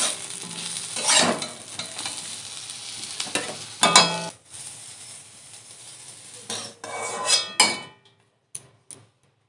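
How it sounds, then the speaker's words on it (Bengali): Potatoes frying in oil in a pan, close sizzling with stirring scrapes and utensil clatter, dropping to quiet gaps and short bursts near the end. "আলুগুলো লাল লাল করে ভেজে নেব"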